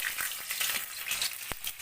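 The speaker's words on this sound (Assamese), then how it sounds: "আলুখিনি একেবাৰে ৰঙা হ'লেকে এনেকৈ ভাজি ল'ম" Potato pieces fry in hot mustard oil with a steady, hissing sizzle, broken by a few sharp crackles and pops, close and moderately loud with no voices.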